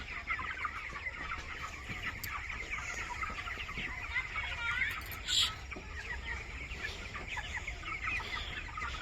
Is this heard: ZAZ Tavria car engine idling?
no